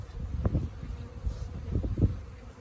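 Honey bees from a package colony buzz around a hive during installation, a steady near hum with soft rising bursts and a faint breezy rustle beneath.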